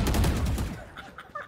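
Gunfire in the Valorant video game: a loud burst of rapid shots up close that fades quickly into quieter game sounds.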